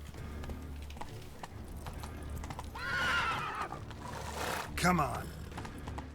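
Roach, Geralt's horse in The Witcher 3, gives two loud whinnies close by over a steady clip-clop of galloping hooves, and someone speaks briefly.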